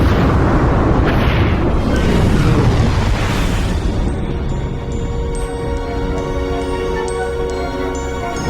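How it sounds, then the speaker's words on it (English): A planet explodes in the Lost in Space film: a loud, sustained boom and roaring rumble that slowly decays under rising sci-fi tones and music. "They make it out before the planet explodes."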